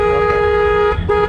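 A car horn blasts loud and close during a first drive into city traffic: one long sustained honk, a brief break, then a second shorter honk, with engine rumble underneath.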